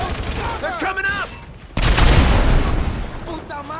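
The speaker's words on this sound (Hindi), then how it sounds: "काफी तगड़ा धमाका था भाई साहब ये वाला" An explosion and gunfire in the video game GTA 5: a sudden loud boom and crackling blasts follow a stretch of shouting voices, then rumble on heavily.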